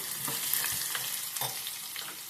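Hot oil sizzles steadily, close by, as chopped garlic fries in a tempering for fenugreek-leaf dal, with a few soft clicks of a spoon stirring the pan.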